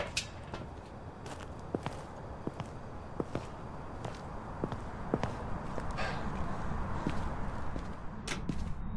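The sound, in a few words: ghost footsteps in Phasmophobia video game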